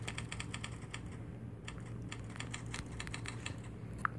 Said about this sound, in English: and then this typewriter.